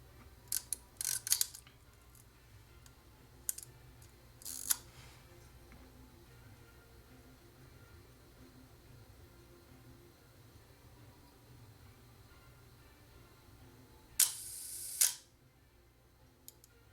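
A Rollei SL126 camera fires its shutter and mirror at a one-second exposure: a few sharp mechanical clicks near the start, a pause of ticking quiet, then a closing clack-and-slap pair near the end, close and crisp.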